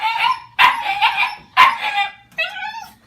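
Puppies in a crate let out three sharp, loud barks in quick succession, then a higher whining yelp, all close and clear with no voices over them.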